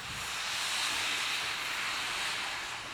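Steam locomotive Engine 618 lets off a continuous loud, close hiss of steam that holds steady throughout.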